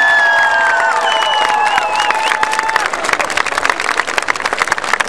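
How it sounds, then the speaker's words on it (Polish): An audience at a concert breaks into loud, sustained applause with scattered cheers, dense clapping filling the hall over lingering tones at the start. "takie porządne brawa."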